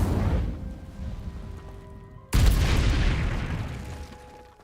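Fire spell cast in the video game Hogwarts Legacy: a sudden loud whooshing burst with a heavy low rumble breaks in partway through, then slowly fades over steady game ambience with faint tonal music.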